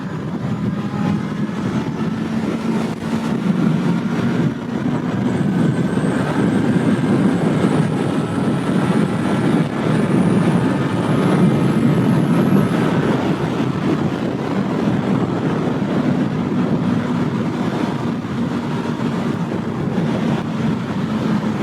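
Engine of a 2015 Kawasaki Z800 motorcycle revving hard at high rpm, a sustained loud droning roar with steady wind rush across the whole stretch, no talking.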